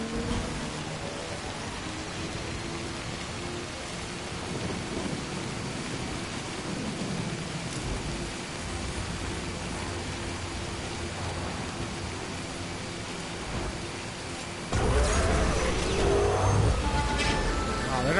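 Steady heavy rain with low rumbling thunder during a storm in the Death Stranding video game, a dense, continuous wash that swells noticeably louder near the end.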